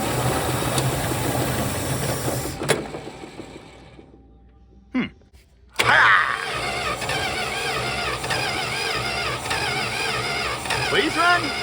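A 1964 Plymouth Belvedere with a Poly 318 V8 cranks and catches, rough clattering engine noise, then a brief dropout before it fires again and runs unevenly, with a voice talking over parts of it.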